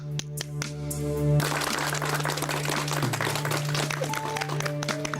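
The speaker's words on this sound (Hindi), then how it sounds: "कितने उत्साह से किसान बहन और भाई तालियां बजा रहे हैं" Farmers, men and women, clapping enthusiastically at a rural farming event, a steady wash of applause running throughout alongside a sustained low musical drone.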